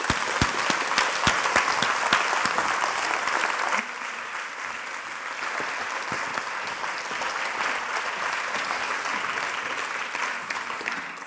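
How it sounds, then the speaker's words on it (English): Loud, dense applause from a large audience fills the space, clapping steadily throughout and easing slightly partway through, with no talking over it. "Can you please give them a massive round of applause?"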